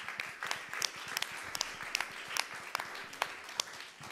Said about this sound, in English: that really does deserve another round of applause